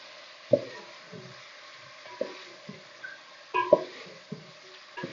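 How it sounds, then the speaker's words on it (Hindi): Quiet sizzle of chicken frying with garlic paste, with occasional sharp clinks and taps of a utensil against the pan. "चिकन को लहसुन के पेस्ट के साथ फ्राई करेंगे"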